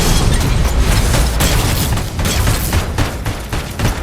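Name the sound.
missile explosions in the video game RoboCop: Rogue City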